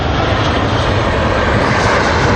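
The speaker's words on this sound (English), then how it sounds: "Here comes another plane on my left." Fixed-wing airplane, apparently a Ryanair jet, passing overhead near Amsterdam and Vijfhuizen, its steady broadband engine roar loud and continuous throughout, heard from a bicycle outdoors with no talking.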